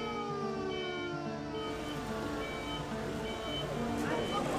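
Ambulance sirens wail in overlapping, sliding tones outside a crowded hospital on a night of mass casualties, with a dense, noisy backdrop of voices and commotion.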